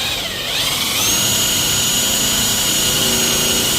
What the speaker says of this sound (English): So now I've got my impact on here.